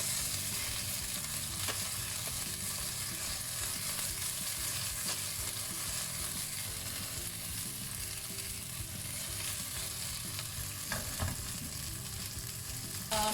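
Fish, likely seabass, fries in a pan with a steady, crackling sizzle of hot oil, faint and continuous, with a few soft clicks and shifts near the end.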